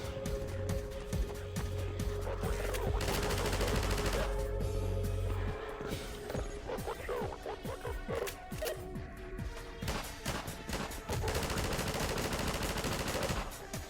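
A Half-Life 2 shotgun fires amid other gunfire, giving a dense run of loud, sharp blasts and crashing impacts that continues for the whole stretch without speech.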